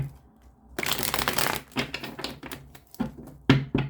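Tarot cards are shuffled in quick, rustling riffles with sharp flicks and taps, close to the microphone.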